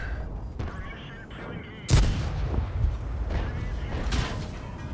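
A tank cannon fires in the World of Tanks game on the Glacier map, one loud boom about two seconds in followed by rumbling tank engine and battle noise.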